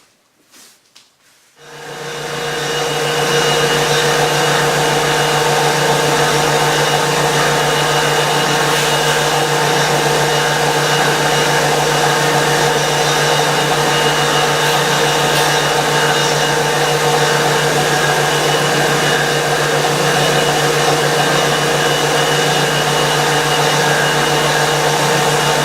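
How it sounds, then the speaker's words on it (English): A disc sander grinds wooden side struts for a guitar kit to length. After a brief clatter it spins up into a loud, steady, close whine and hum that runs without a break. "I'm going to go to the disc sander and sand them to length"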